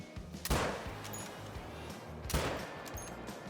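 Long-range rifle shots fired from a prone position at ibex in the hunting video game Call of the Wild: two sharp, loud reports about two seconds apart, each followed by a rolling echo.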